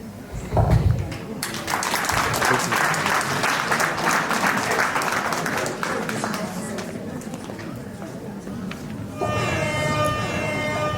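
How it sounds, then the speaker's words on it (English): A conference audience at a 2019 national business conference in Adelaide breaks into loud, sustained applause that fills the room, with voices and cheering mixed in and a brief tonal sound near the end. "Can we please clap for the girls?"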